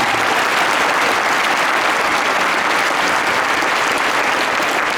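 A crowd at a high school sports team gathering applauds a coach, producing loud, dense, sustained clapping that fills the whole stretch without letup.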